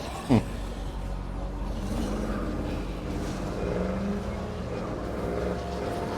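A vehicle drives in the zombie video game Dead Rising, its engine droning steadily with a brief bump early on, while someone talks over the game sound.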